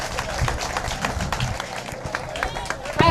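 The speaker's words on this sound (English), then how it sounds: "let's clap for ourselves, please." Audience clapping at a youth day event in Rivers State, Nigeria, a dense crowd applause running throughout, mixed with voices and background chatter.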